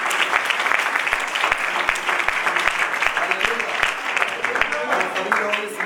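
A church congregation claps together during a Hindi-language worship service, a loud, sustained stretch of rhythmic unison clapping that carries on throughout, with voices mixed in under it.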